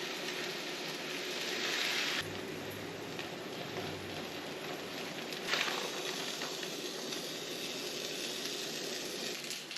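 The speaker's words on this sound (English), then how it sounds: "So let's fry up some tortillas." Tortillas frying in a hot pan for birria tacos make a constant dense hiss with a faint low hum early on and a small burst of crackle midway.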